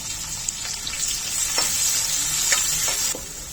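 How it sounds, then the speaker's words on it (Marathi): A medium onion, finely chopped, hits hot oil that already holds garlic and fries with a bright, continuous close sizzle, while faint stirring scrapes come and go throughout, with no speech. "आता तेलामध्ये एक मध्यम आकाराचा कांदा बारीक चिरून घेतलेला आहे तो घालून घ्यायचा"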